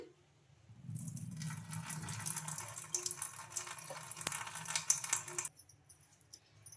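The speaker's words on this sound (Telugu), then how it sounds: "ఇప్పుడు ఈ వాటర్ అనేది వంపేసుకున్నామండి వాటర్ మొత్తం" Soaked flattened rice (poha) has its water poured off in a kitchen, a steady close splashing trickle lasting several seconds before stopping abruptly, with no talk.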